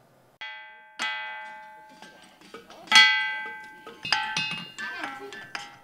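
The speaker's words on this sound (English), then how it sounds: "When struck lightly with a hammer, they sound similar to a brass bell" Rocks in a ringing rocks formation near Whitehall struck with a hammer give several bright metallic rings one after another, each note clanging then slowly fading, with clear bell-like tones and a faint voice in between.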